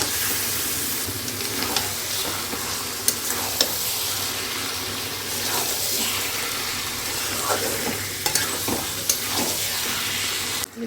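Salted, turmeric-coated Bombay duck fish fries in hot oil with a dense, continuous hiss and sizzle and scattered crackles, close and steady throughout, no voices.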